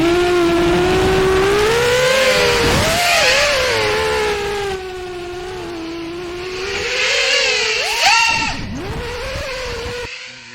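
An FPV drone on Foxeer Dalprop 5145 toroidal donut propellers whines loudly and continuously, its pitch rising and falling with throttle punches across the flight.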